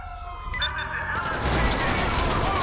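Police siren in Grand Theft Auto V wails in over loud gameplay noise and a steady rumbling wash, with brief bright electronic tones near the start.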